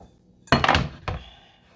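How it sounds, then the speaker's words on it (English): Shrimp dropped into a pan in a home kitchen, a sudden close clatter and sizzle-like burst followed by a second smaller thunk, then fading quiet. "I'm gonna toss it in my pan like this."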